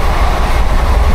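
A passenger train runs on the way to Varanasi, a steady, loud, close rumble of wheels and carriage noise filling the whole moment without any voices.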